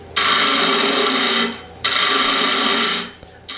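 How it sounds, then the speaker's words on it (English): Steady broadband scraping of a tool hollowing out the inside of a wooden lidded box, two sustained bursts about a second and a half each separated by a short pause, close and loud with no talk. "Now I can continue hollowing the rest of the box"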